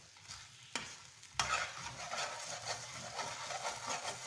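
A spoon stirs fruit rava kesari with apple, cashews and raisins in a sizzling pan. Two sharp scrapes are followed by a steady, close-up hiss and a soft clatter of stirring, with no voices.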